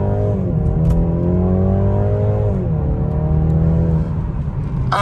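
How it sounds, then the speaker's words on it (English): A BMW 3 Series launches hard from a standstill, its engine note climbing steadily, easing, then rising again through a gear change, loud and close from inside the car. "I'll show you a launch."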